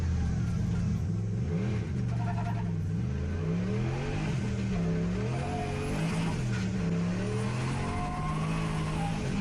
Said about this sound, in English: Off we go again. Lots of wheel spin.